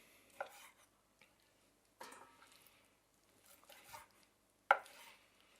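A knife chops raw chicken meat into small pieces before grinding for Adana kebab, giving a few sparse, fairly quiet cuts and knocks on a board separated by near-silent pauses.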